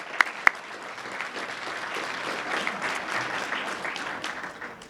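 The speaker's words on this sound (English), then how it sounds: "let's have a round of applause for all of them" A room of people applauding at a Brockton community gathering, with two sharp claps first and then steady, dense clapping that holds evenly through the clip.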